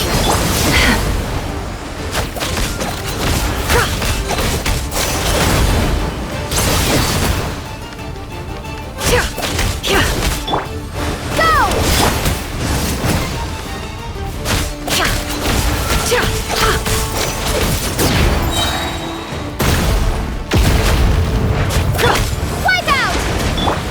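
Explosive crashes and booms from bombs going off in a Genshin Impact cutscene, repeated heavy impacts and whooshes layered with loud music and effects across the whole stretch, with voices talking at times.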